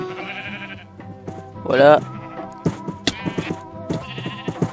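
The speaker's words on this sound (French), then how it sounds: "En sachant qu'il y a plusieurs moutons derrière nous, vous allez voir." A sheep bleats once, loud and wavering, in a multiplayer video game, with someone talking around it and sharp game clicks and thuds following.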